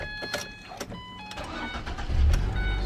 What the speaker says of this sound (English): Nice little cargo van. Start it up.